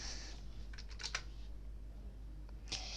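Fast typing on an AZERTY computer keyboard, a brisk run of close, crisp key clicks in quick bursts with a short pause before a final cluster of taps, over a low steady hum.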